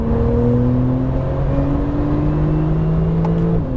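A Porsche 911 Turbo engine pulls hard at full power on a track, a loud, steady high-revving drone that climbs in pitch and holds with no speech over it.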